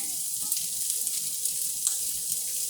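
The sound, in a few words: onion sautéing in a pan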